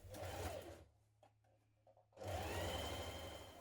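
A sewing machine runs fast stitching a trouser seam, a close, loud mechanical whir that stops for about a second with a few small clicks, then starts up again and keeps running.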